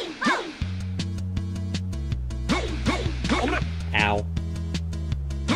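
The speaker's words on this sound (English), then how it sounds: "Look, it's the little dog." A little dog in the rhythm game Rhythm Tengoku gives repeated short barks and yips in a regular beat over a steady musical backing, with a person talking over parts of it.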